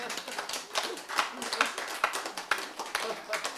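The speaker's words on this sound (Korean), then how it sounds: "이때 여러분이 박수를 치면 얼마나 좋을까?" An audience at a lecture claps together in quick, fairly even strokes, making a busy patter of hands that is moderately soft and close, with a murmur of voices mixed in.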